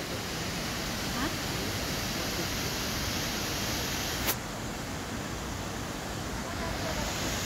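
Senga Falls pours steadily as a dense, continuous roar of falling water, close and constant throughout, with no clear voices over it.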